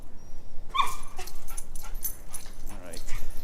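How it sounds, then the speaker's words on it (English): Dogs snarl and yelp in a scuffle heard outdoors during a walk around a neighbourhood, the whines and yips fairly close and rising over steady background noise. "Dog fight."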